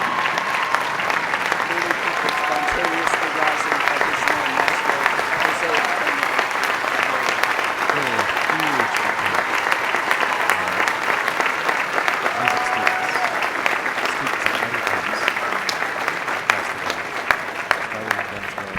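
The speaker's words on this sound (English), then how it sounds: "We applaud Maestro Jose Antonio Abreu." Dense, sustained applause from a large commencement crowd at Harvard fills the air for an honorary guest, steady and loud throughout, with faint murmuring voices mixed into the roar of clapping.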